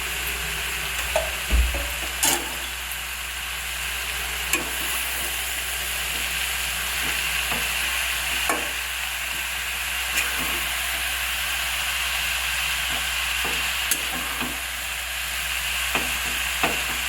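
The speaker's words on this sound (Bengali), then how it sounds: "সব মশলা সবজির সাথে ভালো করে মিশিয়েছি।" Bottle gourd and fish head frying in a pan with spices, a steady hiss and sizzle throughout, punctuated by occasional scrapes and knocks of a utensil stirring, close and continuous with no talking.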